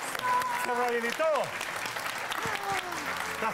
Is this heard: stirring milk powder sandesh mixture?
no